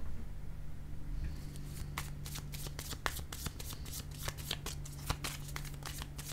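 Tarot cards being shuffled and laid down, close and quiet: a soft riffle builds into a rapid run of crisp card flicks and taps that continues to the end.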